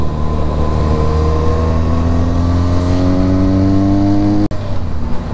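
A Benelli 300 motorcycle engine revs loud and close, its pitch climbing steadily in one long, smooth rise before cutting abruptly and settling back.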